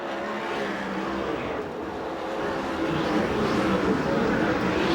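Sprint cars roar past in USAC/CRA racing at Perris, California, a loud, steady engine drone that swells as the field comes nearer.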